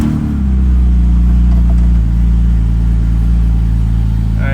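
After a fuel line repair, a car engine catches and settles into a loud, steady running hum, close by and alone, with a slight rise in revs.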